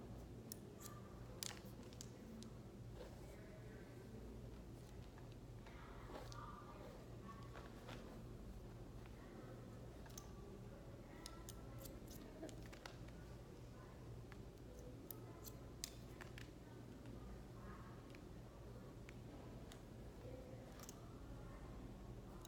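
Scissors snip hair repeatedly while a stylist cuts a round layer haircut in the back section, with quiet irregular clicks spread across a low steady room hum and no speech.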